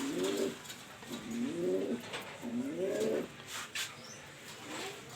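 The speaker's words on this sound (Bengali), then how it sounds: "এখানে একজোড়া লক্ষা কবুতর আছে, দেখেন আদার খাইতেছে।" A pair of Lakka pigeons coo close by in a series of three or four soft, rolling, repeated calls, with faint rustling and small clicks between them.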